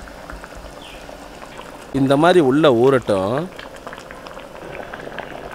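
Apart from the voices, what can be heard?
omelette curry simmering and boiling in a pot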